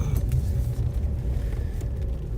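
A car pulls into a beachside car park in Surfers Paradise, giving a steady, close engine and road rumble throughout with no talking.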